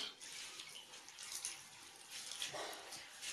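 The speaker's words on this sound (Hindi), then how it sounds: "पानी ऐड हो रहा है" Water pouring into a cooking pot of chicken being mixed with a spice paste for boiling, a steady close splashing trickle running throughout with no talk.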